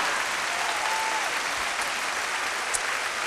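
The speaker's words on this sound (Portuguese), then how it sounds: "Vamos dar então outro aplauso ao Senhor." A church congregation at a Portuguese-language service applauds together, giving a uniform, continuous sheet of clapping from many people with no pauses, steady and moderately loud throughout.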